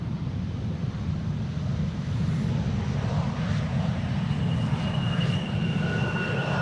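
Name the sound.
airliner passing at Amsterdam Schiphol Airport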